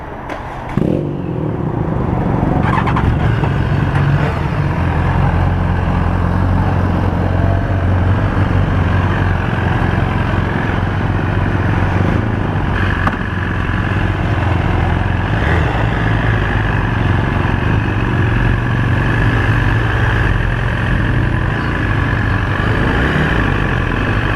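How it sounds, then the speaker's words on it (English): Brand new 2017 BMW S1000RR motorcycle engine while riding, a loud, steady, close drone with a constant low rumble that holds throughout without pause. "So we're on the S1000rr, brand new 2017, courtesy of Park Road BMW."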